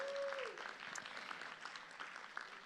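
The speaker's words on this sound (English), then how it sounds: "Let's give them a big round of applause" An audience applauds at a charity dinner, with faint, soft clapping from across the room that continues steadily for a few seconds.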